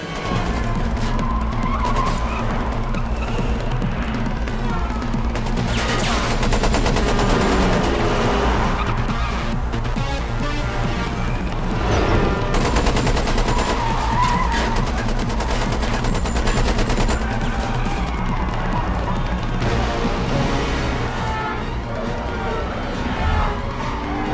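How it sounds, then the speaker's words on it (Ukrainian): Highway car chase from The Matrix films: continuous loud engine roar and tire squeals under a dense orchestral score, with bursts of crashes and gunfire-like impacts swelling throughout. "а продовжується неймовірно знятою гонитвою на шосе"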